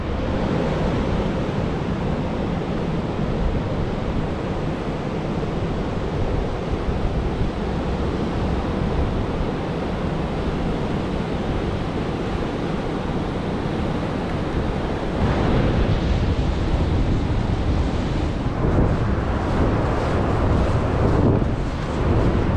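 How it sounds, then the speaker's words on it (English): Ocean surf on the Oregon coast, a broad, constant wash of breaking waves with steady wind rumble, swelling slightly louder near the end, no voices. "there's the ocean, y'all."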